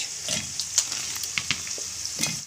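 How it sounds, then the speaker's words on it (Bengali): Two medium onions sizzle in a pan of hot oil for a country-chicken and new-potato curry: a steady bright hiss with small crackling pops and a few stirring scrapes, heard up close with no talking. "পেঁয়াজটা ভাজা হচ্ছে"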